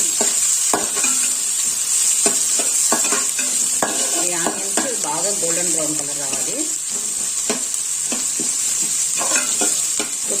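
Chopped onions frying in hot oil in a pan, stirred steadily: a continuous bright sizzle runs throughout with frequent utensil clicks and scrapes and a brief squeaky scraping tone midway, close and fairly loud.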